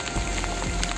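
Hail patters steadily outdoors, a dense, continuous rattle of small pellets striking ground and wood, loud and close, with no voices over it.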